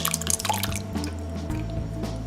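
Canned diced tomatoes poured into a pot make close, wet squishing and dripping splashes over a steady background hum, with no talking.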